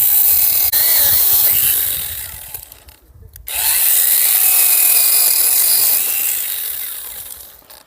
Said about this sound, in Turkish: Şu dalımızı da şuradan kesiyoruz.